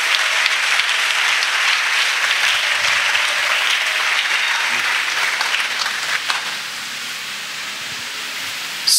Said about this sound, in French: Clap of praise to Jesus.